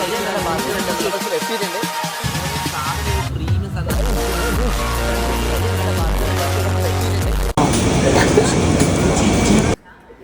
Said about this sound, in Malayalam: നമ്മൾ ആലപ്പുഴ പോകുന്ന ആ ഫസ്റ്റ് ട്രെയിനിൽ നമ്മൾ കയറി ജനറൽ പിടിച്ചായിട്ട് നമ്മൾ ഒറ്റ മൈൻഡ് യാത്രയാണ്.